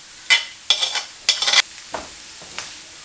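Cabbage being stirred and fried for cabbage rice: a few bursts of spatula scraping and tossing in the pan, each short and close, with a light sizzle fading between strokes.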